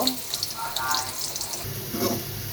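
Onions frying in oil while preparing rohu fish: a close, crackling sizzle with a watery hiss and faint stirring, short and fairly even.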